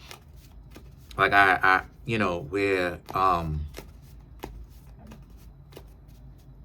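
Tarot cards shuffled in the hands, soft riffling clicks under a woman's spoken reading, with talk dominating the middle and rapid card flicks before and after.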